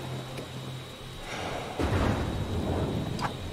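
A thunderstorm in the stealth video game Mark of the Ninja: steady hissing rain with a heavy thunder crack and rumble rolling in midway, then continuing downpour with a faint steady tone behind it.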